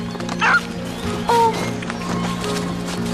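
A small dog barks twice in a forest, short yips standing out clearly over a steady background hum.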